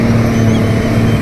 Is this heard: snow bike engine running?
yes